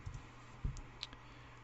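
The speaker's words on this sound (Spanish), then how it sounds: "vamos a hacer clic en cualquiera de los bordes, vamos clic derecho" Computer mouse clicks while working in Ansys Fluent simulation software, a few faint short clicks spaced irregularly over a low steady hum, with no talk.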